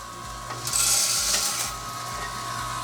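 Hard popcorn kernels pour into a metal kettle corn machine with oil, giving a loud, steady clatter and rattle that swells midway and keeps a dense patter throughout, with a low machine hum underneath.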